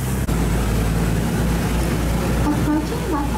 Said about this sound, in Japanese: 多分今またエンジンを吹かして、ね、